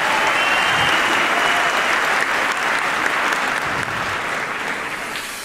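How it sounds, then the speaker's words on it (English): Loud, full applause fills a concert hall after choir performances at a university principal's concert, a thick wash of clapping that eases slightly in volume toward the end. "Please give them a round of applause."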